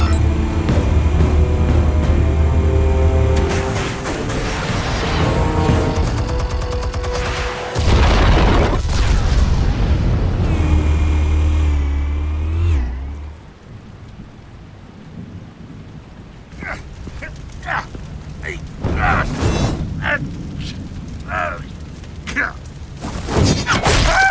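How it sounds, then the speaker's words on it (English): Explosives detonate in the Batman Telltale Series video game: heavy, loud booms and deep rumbling fill the first half, then give way to quieter scattered impacts and debris-like crackles. "Explosives armed. Fire when ready."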